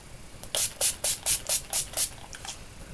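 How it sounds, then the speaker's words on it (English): About eight quick, hissing bursts from a pump spray bottle of NYX matte finishing setting spray in a fairly even rhythm, close by, then a couple of fainter puffs. "setting spray, using the NYX matte finishing spray"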